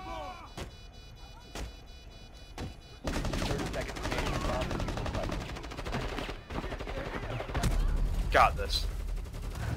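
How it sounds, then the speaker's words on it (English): Shotgun blasts in Rainbow Six Siege, Montagne on the Bomb mode: three sharp, evenly spaced booms, then a dense stretch of heavy firing and clatter, with a brief spoken line partway through. "Takes 4 shotgun shots."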